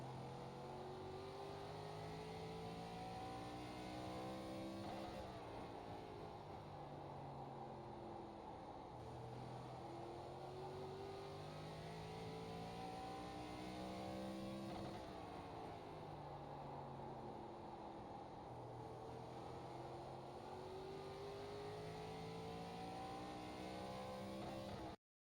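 An ARCA stock car runs a lap of Thompson in a racing video game, its engine droning loud and continuous as it rises and falls through repeated upshifts and downshifts.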